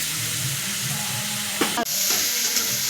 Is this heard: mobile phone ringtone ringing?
no